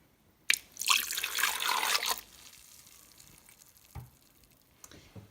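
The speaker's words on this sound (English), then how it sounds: "I'm going to take 3 ounces of apple juice and I'm going to pour" Apple juice poured from a container into a blender for a banana and kiwi smoothie, a loud splashing pour lasting about a second and a half, then quiet with a couple of faint knocks.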